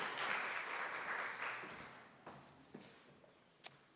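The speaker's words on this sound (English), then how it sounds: "Let's give her a round of applause as she is going to take over this session." Audience applause at a youth e-voting democracy gathering, a dense burst of clapping that is loudest at the start and fades over a few seconds, leaving a few scattered claps.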